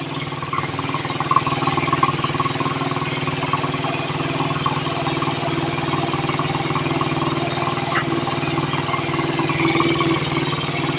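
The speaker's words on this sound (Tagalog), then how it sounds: "Nagana na motor mo." A Suzuki R150 motorcycle engine idles steadily up close, a continuous even chug with a faint metallic rattle running throughout, with no one talking.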